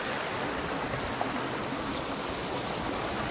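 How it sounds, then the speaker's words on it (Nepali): Water gushes steadily at a spring source, a loud and continuous broadband rush with no pauses and no voices. "यत्रो पानी छ अहिले"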